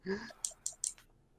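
Three sharp, evenly spaced clicks from playing the game Warframe, fairly close and distinct, following a brief low voice at the start.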